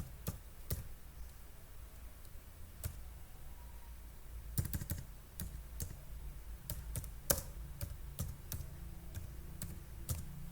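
Keys clack on a computer keyboard while data is entered into a web-based online exam application, a close, faint series of irregular taps and short bursts over a quiet room, with no talking.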